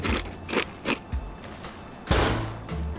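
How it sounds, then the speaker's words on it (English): Gunshots in the survival video game Rust, heard as several sharp cracks spaced irregularly, the last near the end the loudest, set against ambient game noise. "Who the fuck is shooting me?"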